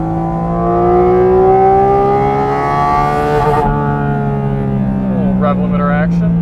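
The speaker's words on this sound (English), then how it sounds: "Little rev limiter action." A 2022 Porsche 718 Cayman GT4 RS engine revs high and holds against the rev limiter on a race track, a steady buzzing drone with a brief stutter, close and loud, with voices at the end.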